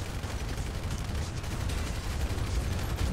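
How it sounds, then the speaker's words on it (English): A shotgun fires in a video game amid dense, continuous gunfire and low booming thuds, loud and close without a break. "I'm shooting a lot of people, it's just not translating into kills"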